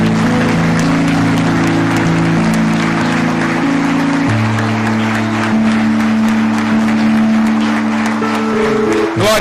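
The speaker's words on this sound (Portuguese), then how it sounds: "Você pode dar uma salva de palmas para Jesus?" A church congregation claps in dense, sustained applause for nearly ten seconds, loud and close, over steady sustained organ or keyboard chords.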